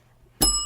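A bell rings once, a bright sudden metallic ding with a lingering ring that starts after a short near-silence and fades slowly.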